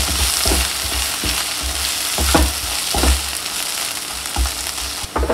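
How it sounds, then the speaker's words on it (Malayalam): Egg masala sautéing in hot oil in a pan, with a loud, continuous sizzle and irregular stirring scrapes and knocks, close up and without any voices. "ഇതുപോലെ എണ്ണ തെളിയുന്ന വരെ നമ്മൾ വഴറ്റണം"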